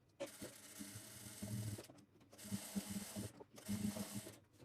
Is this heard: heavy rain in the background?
no